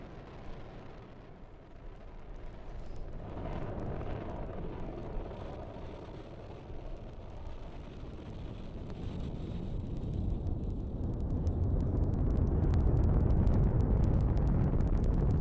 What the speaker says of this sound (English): we are currently firing all 9 of those M1D engines